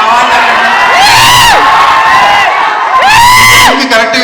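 A large audience at a film pre-release event shouts and cheers in two loud bursts of yelling and whooping, close and energetic, with a short lull between.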